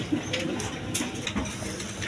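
Pigeons kept as a breeding pair on eggs, Beauty and Lotan breeds, give soft, low cooing in a steady murmur, fairly close, with faint clatter in the background.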